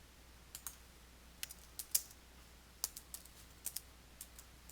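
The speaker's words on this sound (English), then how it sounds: "You can type directly into the pane." Quiet, close keystrokes on a computer keyboard as notes are typed, a dozen or so separate light clicks at an uneven pace with no one speaking.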